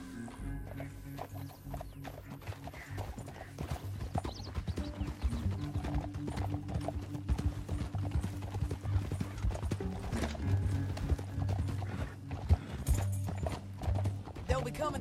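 Horse hooves clip-clop at a steady gallop in Red Dead Redemption 2, with occasional whinnies over a low continuous game music and ambience bed.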